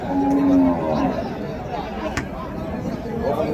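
Native bulls, several old animals, at a Friday cattle market in Uthangarai, with a low lowing call early on amid steady crowd chatter and livestock bustle.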